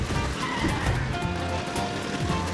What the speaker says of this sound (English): I'm crashing one car into another.